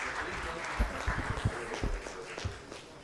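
Conference audience at an international event on concrete innovations in Hyderabad applauding: scattered, fairly quiet claps with a few sharper individual hits, the applause thinning out over a few seconds amid background murmur.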